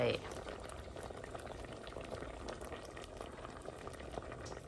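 A pot of curry made with wild earth mushrooms bubbles at a steady, soft boil nearby, giving a continuous gentle gurgle, with a voice speaking over it.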